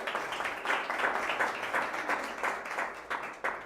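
An audience at a panel discussion applauds, a fairly faint, steady patter of many hands clapping throughout.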